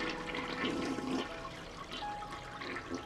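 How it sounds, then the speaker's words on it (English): Toilet flush in the game Unpacking, one short whooshing rush of water that drains away into a quieter trickle. "Flush toilet."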